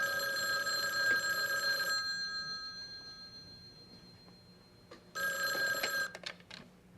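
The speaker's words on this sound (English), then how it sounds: "Answer the phone the way I taught you, okay?" A telephone bell rings in two loud, sustained bursts with a pause between them, then a few short clicks and clunks follow.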